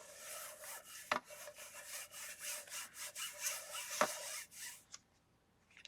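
Ink being scrubbed back and forth between paper pages while testing Halloween inks, a steady rhythmic rubbing rasp with two brief sharp knocks, close and alone, fading out near the end.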